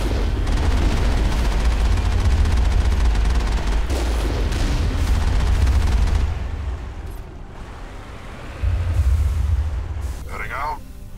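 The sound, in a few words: gunfire in the video game Mass Effect 1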